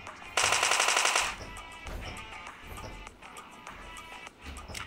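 Automatic gunfire in a video game: one rapid, loud machine-gun burst of about a second, followed by quieter in-game rumble and ambient noise.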